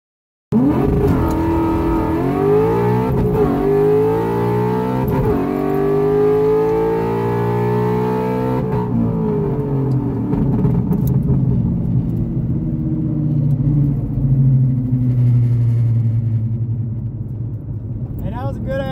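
An all-motor Mustang on a 1/8-mile drag strip at full throttle, the engine climbing through revs with gear shifts and then fading as the car pulls away. Loud and near at the start, and voices can be heard.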